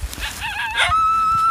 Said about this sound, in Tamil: இப்போ நாய் பார்த்தா குலைக்குது